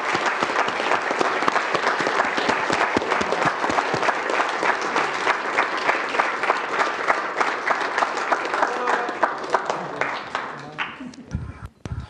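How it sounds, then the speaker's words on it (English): A crowd at a Tucson space-related event applauds a crew's work with sustained, dense clapping that stays loud and even for several seconds before thinning out and fading near the end. "Let's all applaud their work up there."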